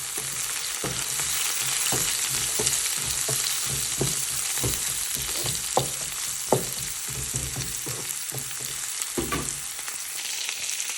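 Onions frying lightly in a pan: a loud, constant close-up hiss of oil with soft scraping stirs spaced through it, no talking.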